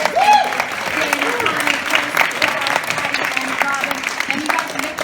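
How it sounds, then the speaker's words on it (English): An audience applauds at a Wonder Woman press conference, a steady wash of clapping running throughout while voices and crowd murmur carry over it. "Give them a round of applause"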